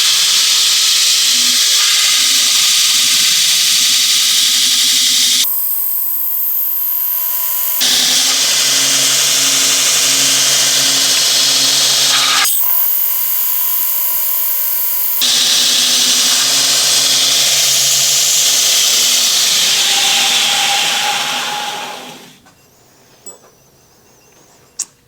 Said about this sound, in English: So turn on my grinder, and let's make 20 degrees.